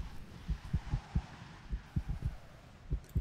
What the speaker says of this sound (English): I always love hearing heartbeats.